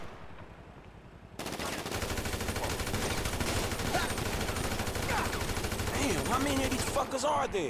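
Automatic weapons fire in GTA V story mode during a construction-site assassination mission: a quiet lead-in gives way to sustained, rapid, loud shooting that runs without pause to the end.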